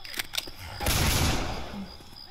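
Rapid gunfire from a weapon in the zombie shooter Left 4 Dead 2: a few sharp clicks and shots, then a dense, loud sustained burst lasting almost a second before dropping back to quieter game ambience.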